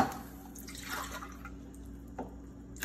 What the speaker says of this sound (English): Now that the pan is hot, we're gonna put 3 cups of water.